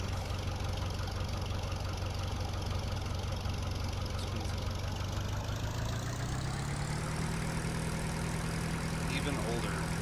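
Tractor engine idling in Farming Simulator 2013, a steady low drone that holds even throughout, with its pitch rising slightly partway through and no voice over it.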